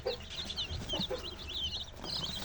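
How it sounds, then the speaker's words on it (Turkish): Mixed flock of chickens, including white Sussex, porcelain, Wyandotte and village mixed breeds, clucking and chattering continuously at close range, with overlapping bird calls throughout. "Şu şekilde beyaz ispençlerimiz, porselen ispençlerimiz, GSG viyandotlarımız, köy kırmalarımız."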